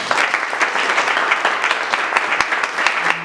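A crowd at an election night event in a restaurant claps for a city council member, loud continuous applause close by with a faint hum underneath.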